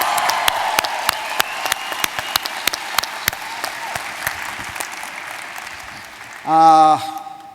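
Audience giving itself a hand: lively applause with crisp individual claps that thins out gradually, ending with a short burst of voices and cheering.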